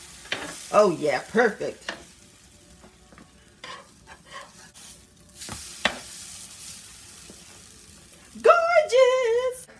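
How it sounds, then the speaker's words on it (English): Red velvet French toast frying in a pan after being flipped, a soft sizzle broken by a few stirring and scraping noises, with a person speaking briefly at the start and again at the end. "Alrighty, time to flip the French toast."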